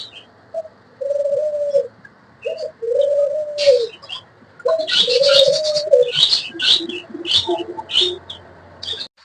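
Doves coo from an open-air dove farm, several soft low calls repeating in short rhythmic phrases at close range, with higher chirps and twittering from other birds scattered over them and no talk.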